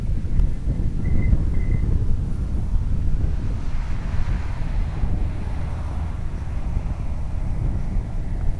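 Strong outdoor wind buffets the microphone in a constant low roar, with brief faint whines of a small electric model plane's motor early on.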